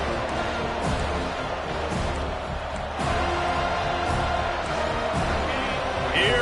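A home crowd roars at a college football game between FSU and CPU as the defense tries to get off the field on third down, a broad swelling cheer heard under a commentator's play-by-play.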